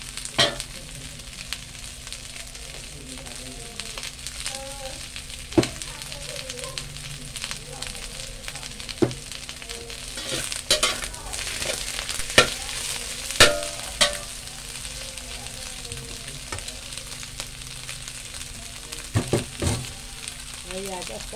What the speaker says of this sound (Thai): อย่าคั่วแรงเดี๋ยวไข่เละ